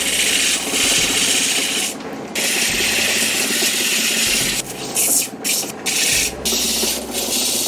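Turquoise is polished with a 320 grit abrasive on a rotary tool, giving a steady close grinding and rubbing whir broken by several short pauses and bursts.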